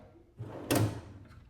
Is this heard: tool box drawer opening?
yes